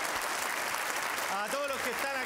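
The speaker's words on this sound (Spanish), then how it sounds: "más un aplauso adelante para Evaristo Espina" Studio audience on a 1996 Spanish-language variety show applauding steadily, a dense wash of clapping with a voice calling out over it near the end.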